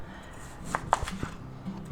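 A knife chops peppers and onions into chunks on a cutting board for a hot pork sub, a few soft, irregular thuds at close range.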